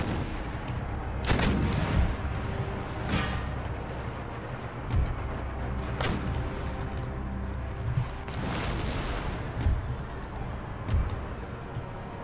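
Mortar fire on a battlefield in Empire: Total War, a series of distant booming thuds and crackling reports spaced every couple of seconds over a steady rumbling background.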